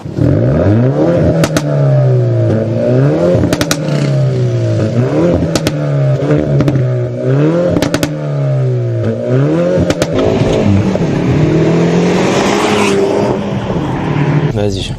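A 2020 Hyundai i30 Fastback N engine revs up and down in repeated surges during a road test, climbing and falling in pitch, with voices talking over it near the end.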